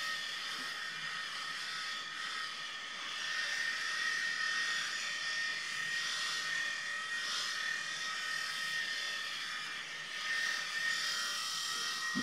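Electric hair clipper bought at Kaufland cutting hair on a man's own head, a steady close buzzing drone that rises and falls slightly as the blades move through the hair, with no talking.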